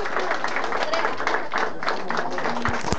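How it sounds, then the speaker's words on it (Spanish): Applause from a crowd of guests at a birthday celebration in Urbanización El Retablo, Comas, dense and steady for the whole stretch, with some voices mixed in among the clapping. "Por favor, un fuerte aplauso para la señora Marlene."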